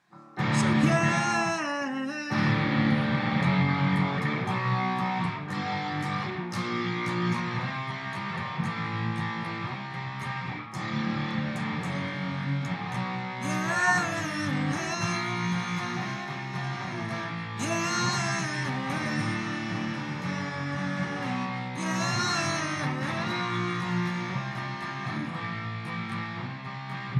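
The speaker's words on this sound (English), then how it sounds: "it's just the same chords with distortion on" Electric guitar with distortion plays the chords of a song, loud strummed chords ringing almost continuously, with a short pause early on and occasional changes in attack.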